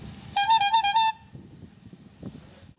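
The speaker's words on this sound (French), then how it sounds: "Et en plus, klaxon personnalisé." A custom musical car horn on a vintage VW Combi van at a rockabilly gathering blares a loud, bright multi-note melody close by, followed by faint background engine and crowd noise.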